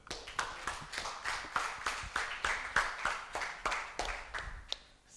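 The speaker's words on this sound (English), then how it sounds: "Can we have a round of applause, people?" An audience at a Toastmasters club meeting applauds, a dense, steady patter of many hands clapping that runs for about five seconds at moderate-to-low volume, with no talking over it.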